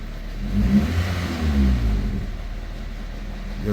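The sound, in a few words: 2005 Pontiac Vibe engine revving with throttle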